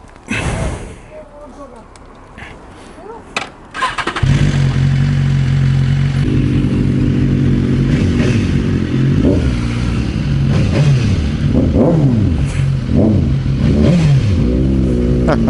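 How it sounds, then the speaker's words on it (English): A motorbike engine starts after a few seconds of quieter rustling and breathing, then idles loudly up close with several rising revs near the end. "I do love the sound of her bike."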